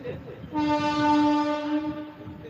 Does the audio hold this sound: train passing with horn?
yes